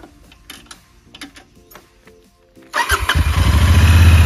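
A 2022 Royal Enfield Continental GT650 twin-cylinder motorcycle on its stock exhaust starts up after some quiet clicks and handling noises, then settles into a loud, steady, close-up idle rumble.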